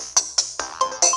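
A notification bell chime in a Toca Lab: Elements mobile game, five bright rings in quick succession, each a sharp metallic strike with a short ringing tail, heard alone.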